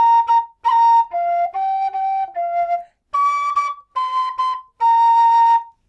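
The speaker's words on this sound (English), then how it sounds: "Now you can actually play that same melody on this whistle" A low F tin whistle plays a simple melody of about nine clear, separate notes, stepping down and then back up, loud and close with silence between notes.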